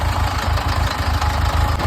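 A homemade, tank-like tractor built from scrap in Patiala idles with a steady, low, throbbing diesel chug, close and continuous with no voices.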